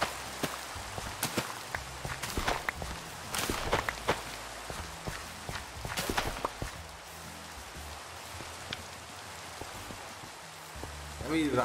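Rain falls in the Minecraft video game, a steady hiss of drops with scattered footsteps and clicks over it, and a voice speaking faintly underneath.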